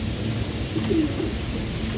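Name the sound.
racing pigeon cooing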